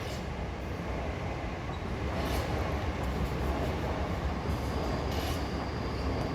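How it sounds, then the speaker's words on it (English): A commuter train heading into the city rumbles past at a suburban station in a steady, broad roar, moderately distant and without talk, with faint wheel squeal. "there goes a train heading into the city"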